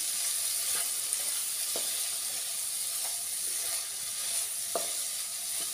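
A potato and capsicum curry cooks over a low flame while a spoon stirs it, giving a continuous sizzle and hiss with a few soft scrapes and taps against the pan, close and without talk.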